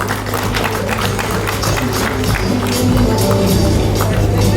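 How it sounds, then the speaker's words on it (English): A large business-expo crowd in Uganda gives dense, continuous applause, a loud wash of many hands over a low steady electrical hum that swells slightly near the end. "Ladies and gentlemen, a round of applause."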